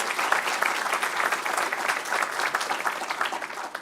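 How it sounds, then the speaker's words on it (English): Steady, dense applause from an audience at a university faculty awards celebration for teaching and research, continuous and moderately loud throughout with no talking. "So how about a round of applause for"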